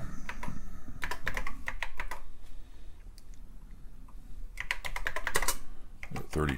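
Keys clacking on a TRS-80 Model I computer keyboard, quick bursts of close, crisp keystrokes separated by pauses, with a faint background hum.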